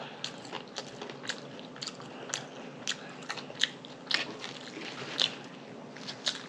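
Close, crisp crunching bites and wet chewing of breakfast food, with irregular sharp crunches repeating over a soft mouth-noise bed.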